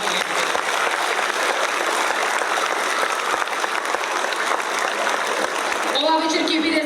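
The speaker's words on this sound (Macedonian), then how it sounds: "Да ви молам еден аплауз за сите наши колеги." An audience at a school anniversary celebration claps in sustained, dense applause that holds steady for several seconds, then gives way to a voice speaking at the end.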